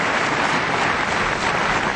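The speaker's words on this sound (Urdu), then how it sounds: "بند کرو تالیاں، میرے منہ سے کچھ سن نہ لینا۔" Studio audience applause at a Pakistani television comedy show, a dense, steady, loud wash of clapping filling the whole stretch without a break.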